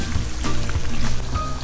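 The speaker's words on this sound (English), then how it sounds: "We're just frying them to make the outside crispy." Chamorro empanadas fry in hot oil with a loud, close, constant crackling sizzle that has a few bubbling pops, and no voices are heard.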